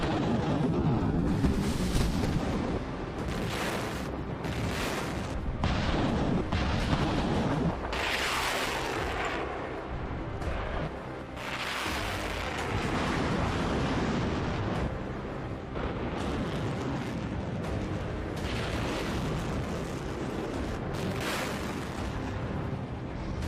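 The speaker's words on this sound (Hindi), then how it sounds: "जमकर रॉकेट्स और मिसाइल दागे" Rockets and missiles launching in an Iranian military exercise: a sustained, roaring rumble with repeated bursts of blast noise across the whole stretch, moderately loud and distant, with no speech.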